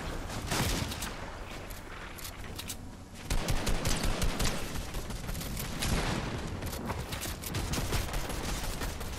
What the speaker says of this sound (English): Why is my teammate shooting at me?